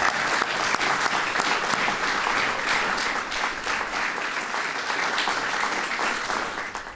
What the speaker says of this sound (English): A round of applause for our awards committee.